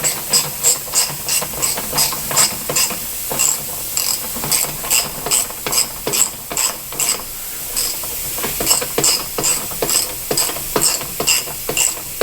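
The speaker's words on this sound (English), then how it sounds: "now I just have to tighten the clamp up" Rapid ratchet clicks from tightening a clamp on truck air brake parts, a steady run of sharp, close mechanical strokes in short bursts, with no talking.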